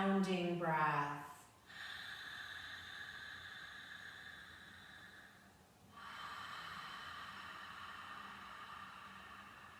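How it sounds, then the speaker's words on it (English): Audible breathing during a seated chair yoga practice, a loud snort-like inhale at the start followed by long, steady airy breaths with a soft hiss, close and quiet with no talking. "we start to listen and watch the breath as it starts moving towards a more sounding breath"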